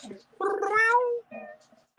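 A person's voice imitates a cat's meow, one drawn-out, close, wavering call followed by a shorter, fainter sound.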